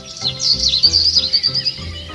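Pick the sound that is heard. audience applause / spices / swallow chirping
swallow chirping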